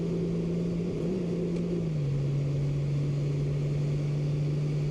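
A brand new 2025 Honda Goldwing motorcycle cruising in fourth gear at about 60: a smooth, steady engine drone with a slight pitch dip midway, under constant wind rush, loud and close, with no talk.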